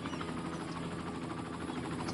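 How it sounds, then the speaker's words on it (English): Steady, continuous thrum of a medical helicopter's rotor and engine in the game Cities: Skylines, a constant dense whir at moderate level without breaks. "Oh, those are medical helicopters."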